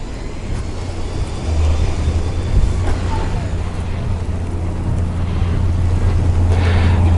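Quantum Edge Stretto power wheelchair driving along, a steady low motor hum that grows slightly louder after a second and holds constant amid background noise.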